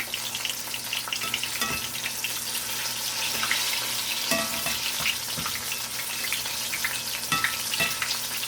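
Apple donuts fry in hot oil with a steady dense sizzle, broken by a few clattering knocks as the pieces are flipped over, close and fairly loud throughout.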